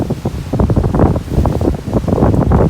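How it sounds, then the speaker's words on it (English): Boat wake waves on the Mississippi River slosh and slap loudly close by in irregular bursts, mixed with heavy wind buffeting the microphone. "These are the insane waves that guy just caused."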